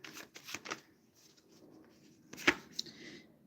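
A deck of cards being shuffled, a few quick riffling bursts near the start and a sharper snap later, close and quiet against a soft background.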